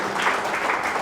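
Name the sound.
audience applause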